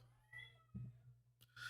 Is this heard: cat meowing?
yes